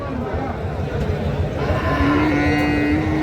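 Sahiwal bull calves lowing at a busy weekly cattle market in Ghoraghat, Dinajpur, with one sustained moo rising over steady crowd chatter and livestock bustle.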